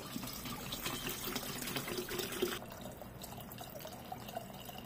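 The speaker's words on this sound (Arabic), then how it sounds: "طبعا نعبي الماء هنا" Water is poured from a tap into an electric samovar for steamed tea, a steady gushing fill that stops abruptly midway, leaving quieter dripping and splashing inside the vessel.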